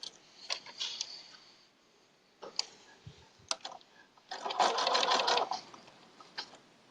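Sewing machine stitching a log cabin quilt, heard as short bursts of motor whir and needle ticking separated by pauses, with one longer, louder run of stitching near the end.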